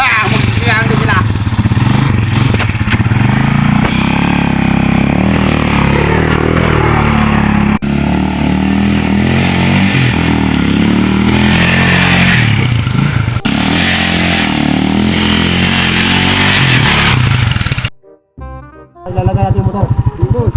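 A motorcycle engine revs loudly and roughly for most of the stretch, close by, while several people shout and talk over it before it cuts out near the end.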